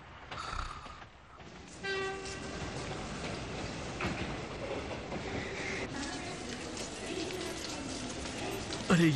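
A train runs along its rails with a steady rumble and rolling clatter, a horn-like tone sounding early on, while a voice talks over it in an animated setting.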